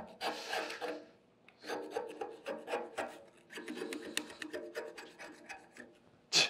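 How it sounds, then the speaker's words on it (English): Weld spatter is scraped off metal in repeated rasping strokes, close and fairly quiet, in short bursts with brief pauses between them. "It's easy to scrape."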